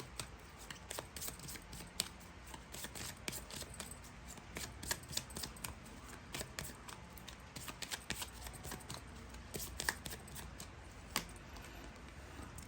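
A mini tarot deck is shuffled close by at low volume, with repeated soft card riffles and sharp flicks in an uneven rhythm.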